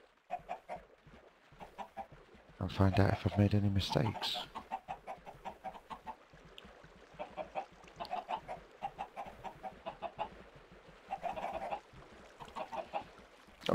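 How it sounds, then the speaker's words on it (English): Chickens in a video game chicken farm cluck in quick, repeated bursts, with one louder squawking flurry early on, while a person talks throughout. "let's spawn some chickens"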